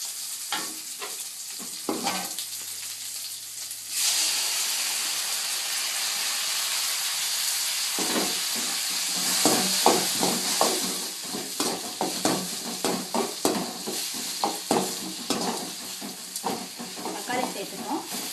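Onions with curry leaves sauté in a pan for Tamil-style tomato rice, a steady close sizzle and hiss with scraping stirs of a spoon building through the second half; a voice speaks briefly early on.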